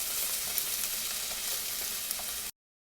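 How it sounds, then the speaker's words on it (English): Garlic sautéing in a pan for a tomato sauce, a dense, even sizzle close and steady with faint occasional ticks, cutting off abruptly. "add the garlic. And just saute that for a minute or two"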